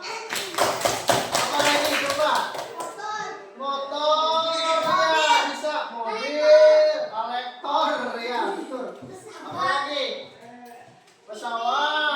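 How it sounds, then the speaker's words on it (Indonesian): Children clap their hands in a quick burst of taps over the first three seconds, while a teacher's voice carries on talking above and after it. "Tepuk tangan dong."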